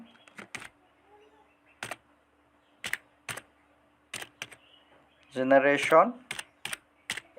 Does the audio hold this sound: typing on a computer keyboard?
yes